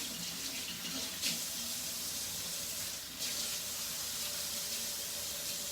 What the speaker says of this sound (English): So, let me give my hands a quick wash.